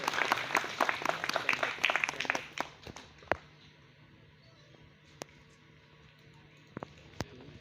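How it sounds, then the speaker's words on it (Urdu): Audience applause at a New Year celebration held in a marquee, a dense burst of clapping for a couple of seconds that thins out into a few scattered, isolated claps. "جناب ملک نذیر صاحب، تالیوں میں کنجوسی نہیں کرتے"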